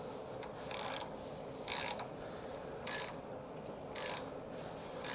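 A Helicoil Sav-A-Thread tap is worked into a lawn mower's spark plug hole, giving faint, roughly once-a-second bursts of scraping, ratchety metal cutting over a steady low background hum, with no voices.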